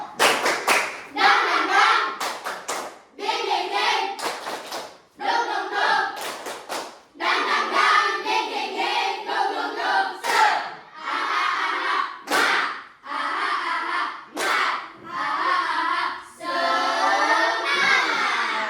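A standing group performs the rhythmic tepuk semangat clapping chant, bursts of sharp claps and thumps alternating with chanted voices in a quick, patterned sequence with brief pauses between phrases.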